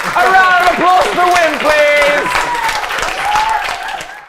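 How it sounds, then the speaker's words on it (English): At a comedic press conference, an audience breaks into applause, bursts of clapping blending with loud voiced tones and chatter across a few seconds. "A round of applause for"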